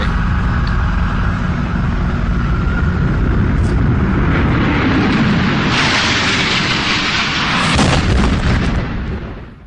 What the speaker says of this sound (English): The second plane hits the South Tower between the 78th and 82nd floors at 9:03 a.m.